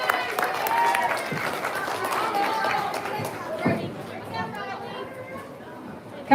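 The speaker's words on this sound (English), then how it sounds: "let's give them all a big round of applause" Audience applause and crowd chatter at a hog show as contestants head back to the barn, a steady wash of clapping at moderate distance with a brief louder burst near the end.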